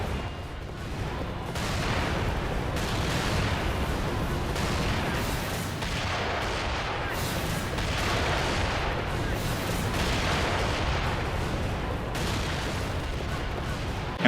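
Battlefield cannon fire at the Battle of Mohács, a dense rolling barrage of booming blasts and crackling gunfire that continues steadily and loudly throughout, with repeated heavy impacts and no clear pauses.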